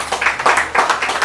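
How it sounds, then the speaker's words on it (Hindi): An audience at a product training event claps in quick rhythmic bursts, fairly close and loud, for about a second with no talking. "उनके लिए जोरदार तालियां।"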